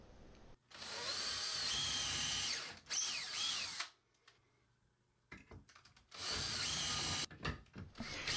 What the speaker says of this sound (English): Once you know it's level, then drill out your other 2 pilot holes.